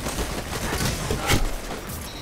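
Game gunfire in Destiny 2 during a competitive match, a dense burst of shots with one louder crack near the middle over constant background game noise.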